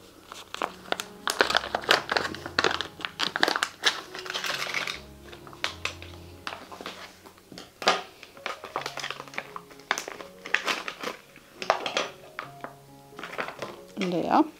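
Plastic zip bags from a Diamond Art Club diamond painting kit crinkling and rustling in irregular close bursts as they are unpacked, with light tapping between and a person talking over parts of it.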